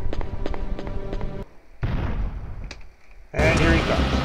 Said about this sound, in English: I can hear Nemesis already